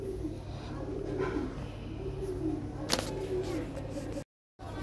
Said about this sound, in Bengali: কবুতর ভালো কবুতর।